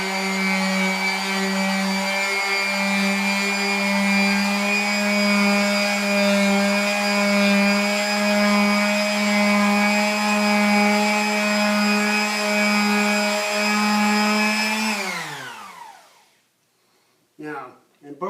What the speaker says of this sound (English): the palm sander is actually going to just save you some elbow grease